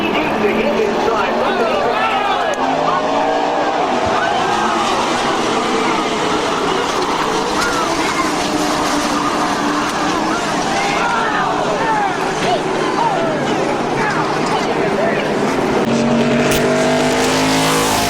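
Race trucks roar around the Daytona tri-oval during a Truck Series race in 2000, a loud continuous engine drone with shifting pitch sweeps as the pack passes, under a commentator's voice.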